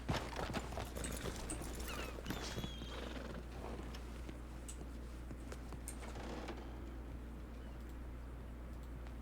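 Horse hooves clip-clop steadily in the video game Red Dead Redemption 2 roleplay (WildRP), against a busy background of ambient game noise and faint bird chirps, with no voices.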